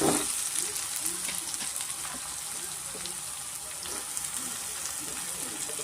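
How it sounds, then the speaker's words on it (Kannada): Brinjal frying in a pan with tomato just added for vangibath, a steady close sizzle that hisses continuously throughout. "ಬದನೆಕಾಯಿ ಸ್ವಲ್ಪ ಫ್ರೈ ಆಗಿದೆ ಒಂದು ಕಾಲು ಭಾಗ ಆಗಷ್ಟು ನಾನು ಫ್ರೈ ಮಾಡ್ಕೊಂಡಿದ್ದೀನಿ ಇವಾಗ ಇದಕ್ಕೆ ನಾನು ಟೊಮೆಟೊ ಸೇರಿಸ್ಕೊತಾ ಇದ್ದೀನಿ"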